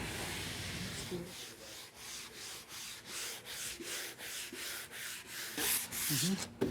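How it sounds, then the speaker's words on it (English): Steady back-and-forth strokes of 100-grit sandpaper on wood, rhythmic rasping close by, with a faint voice briefly near the end. "we're sanding these out now with some 100 paper"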